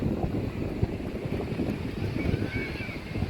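Wind buffeting the microphone at a beach by the sea, a steady low rumbling roar with waves faintly under it and no clear voices.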